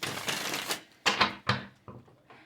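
Tarot cards shuffled by hand in quick riffling bursts: a dense run of papery flicks, then a pause, followed by two sharper snapping riffles and a few softer trailing shuffles, close and clear with no talk.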